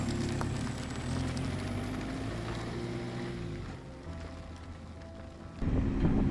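A deep BMW diesel engine in a 1986 Royale Sabre drones steadily from inside the moving car, its low rumble rising and falling through gear changes, with no voices.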